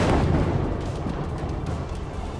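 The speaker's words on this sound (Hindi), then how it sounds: "मीडिया दफ्तर को उड़ाने के लिए इजरायल ने रात के वक्त जबरदस्त स्ट्राइक की।" A powerful airstrike blast hits a media office building at night, beginning as a loud, deep booming roar that slowly fades into a rumbling decay over a couple of seconds.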